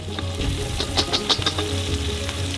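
Carrots stir-fry in a pan for Uzbek pilaf, a steady sizzle over a low rumble, with several crisp clinks and scrapes from stirring close by.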